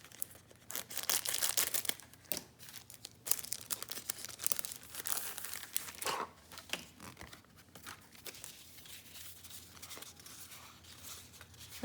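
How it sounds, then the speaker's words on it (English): Plastic packaging holding photo mounting paper strips crinkles and rustles up close in irregular bursts, loudest in the first few seconds and then softer, with no talking. "sorry for the crinkle"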